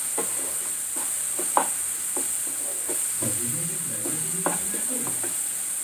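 Garlic chutney with chili powder fries in a pan, giving a steady close sizzle with scattered stirring clicks and scrapes; a voice speaks briefly partway through.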